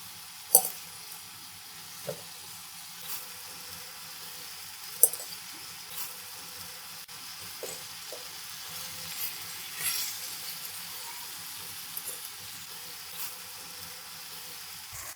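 Pieces of tandoori chicken cook in a pan on the stove, no oven, with their released water drying off. A soft, continuous sizzle carries faint clicks and taps as the pieces are turned, and no one speaks.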